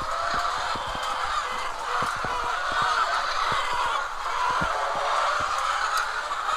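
Chickens on a poultry farm in Karachi fill the space with a steady, dense chorus of clucking and chatter, a continuous mid-range hubbub with scattered sharper calls and clicks, no voices over it.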